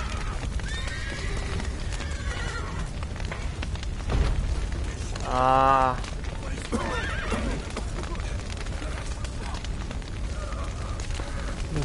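A horse whinnies loudly in The Witcher 3, a descending harmonic neigh standing out over steady game ambience, with clip-clop hooves and a brief spoken exclamation nearby.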